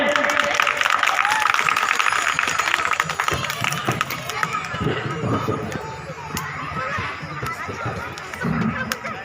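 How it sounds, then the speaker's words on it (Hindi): A book launch audience claps loudly in sustained, dense applause that runs through the whole stretch, with voices and crowd murmur mixed in. "जोरदार तालियों से स्वागत करेंगे।"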